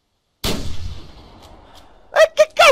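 A sharp, booming gunshot in the hunting video game The Hunter, with a lingering tail, followed by a quick burst of shouted voice.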